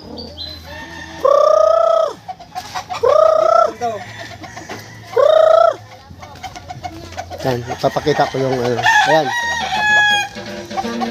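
A rooster crows loudly three times on rural farmland, each long crow separated by clucking chickens and other birds, while a person talks nearby.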